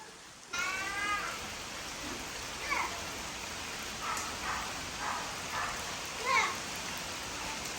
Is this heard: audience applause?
no